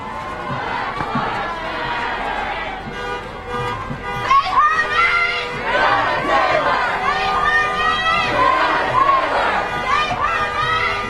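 Large street protest crowd in Minneapolis marching past, a dense wash of many voices with overlapping shouts and chanting, steady and fairly loud throughout.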